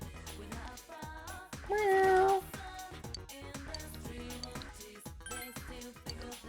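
Cat in Persona 4 Golden gives one clear, drawn-out meow over busy in-game background music, loud and close, lasting under a second.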